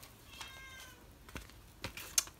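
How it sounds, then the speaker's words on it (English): A cat meows once outside a closed door, faint and somewhat muffled, followed by a few soft clicks and taps. "my cat is outside the door complaining, as always when the door is closed."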